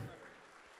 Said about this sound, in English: So just want to give you guys a big round of applause.